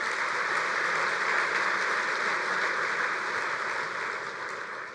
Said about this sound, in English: Please give these fine folks a round of applause